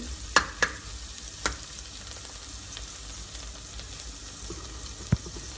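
Onions frying in a pan for beef curry, browning with a steady soft sizzle and a few sharp spatter pops and utensil clicks.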